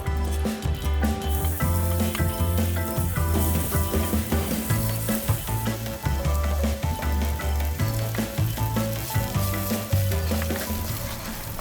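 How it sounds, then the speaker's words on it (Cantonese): Lard, pork cracklings, minced garlic and preserved radish stir-fry in a wok at a Malaysian street food stall, giving a steady, loud sizzle under continuous background music. "跟住我哋就放入頭先準備好咗嘅豬油、豬油渣、蒜蓉同埋菜脯落去炒。"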